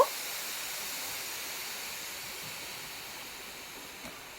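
Steam rushes steadily out of a pressure cooker with its whistle weight lifted, cooking rice for local chicken biryani, a loud continuous hiss that fades slightly over a few seconds.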